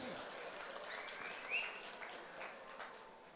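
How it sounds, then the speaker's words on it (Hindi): Audience applause at a live stand-up comedy skit at the Numaish exhibition in Nampally, Hyderabad: a faint, distant, steady patter of clapping with no voices. "तो बजाइए जोरदार ताली"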